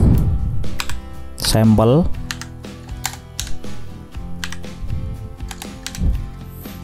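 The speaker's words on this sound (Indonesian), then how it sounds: "Silakan diketik, ini saya coba tak ketik dulu ya." Rapid keystrokes on a computer keyboard tap out a steady, close stream of clicks while someone talks over most of the typing.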